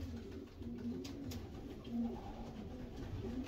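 Soft, low cooing of racing pigeons at a breeding station repeats faintly over a steady background hiss, somewhat distant and muffled.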